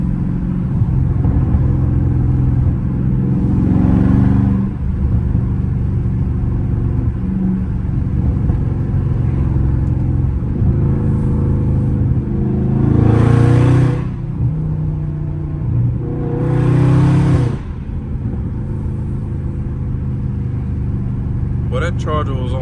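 A loud Dodge Charger Scat Pack driving late at night, its low engine rumble steady under ongoing talk inside the cabin, with several swells where the engine revs up before settling back.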